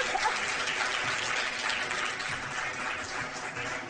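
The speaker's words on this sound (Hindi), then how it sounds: "बजाओ तालियां।" Steady, dense applause from a studio audience on a morning TV show, evenly sustained throughout with no voices standing out.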